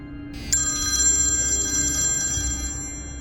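A telephone rings with a steady electronic trill lasting a couple of seconds over a low background hum, with no voices.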